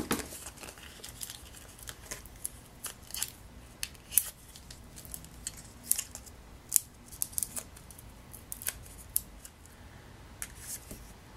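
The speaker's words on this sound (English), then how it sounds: "we're going to punch out a flower" A handheld paper punch cuts a flower shape from scrap cardstock, giving faint scattered clicks and snaps with soft paper crinkling between them, quiet and close.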